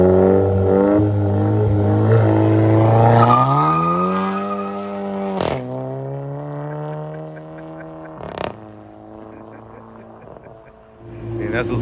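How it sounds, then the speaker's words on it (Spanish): A car skids on dirt during a drag race, its engine revving hard and holding a loud droning whine with sharp squeals cutting in as a person talks. "Patinando con la tierra"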